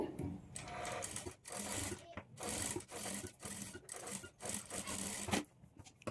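A sewing machine runs in repeated bursts while stitching invisible thread piping onto a blouse's armhole and neckline, its motor whirring up and stopping several times, close and clear.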